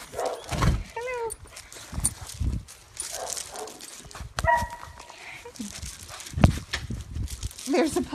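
Puppy at a shelter whimpering and yipping in short, high bursts with scuffling paws and barks close by, under people talking.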